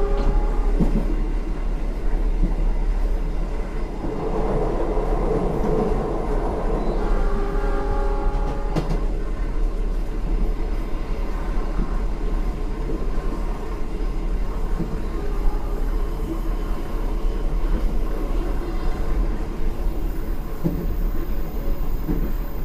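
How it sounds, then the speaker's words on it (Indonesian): The Jayabaya economy passenger train in East Java rumbles steadily along the rails with a constant low roar and faint clatter, loud and close throughout, with no talking. "kereta api Jayabaya akan mengambil jalur percabangan ke arah Malang"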